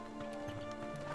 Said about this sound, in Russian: Какие-то лошадюни.